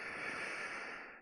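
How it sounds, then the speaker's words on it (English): A person blowing their nose, a sustained breathy, honking exhale lasting over a second at steady loudness before trailing off abruptly, heard alone without talk. "I gotta blow my nose again"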